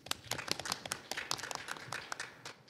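Audience applause at a Korean living-lab network forum, welcoming the final speaker to the stage: dense, steady clapping from many hands in a hall, moderately loud and unbroken for a few seconds with no talk over it.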